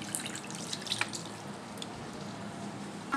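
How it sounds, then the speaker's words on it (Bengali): Water trickling and splashing into a pot of spice-marinated whole chicken being prepared for a Bangladeshi chicken roast, a soft, steady pour with a few light drips and clinks, close and fairly quiet with no talking. "এর সাথে আমি পানি অ্যাড করে দিচ্ছি।"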